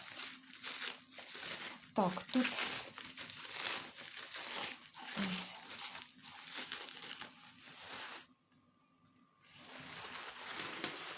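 Bulky crinkly wrapping is pulled off a protective bundle around an item from a parcel. The packaging gives sustained crackling and crumpling with a brief quieter pause, and someone talks over it in places.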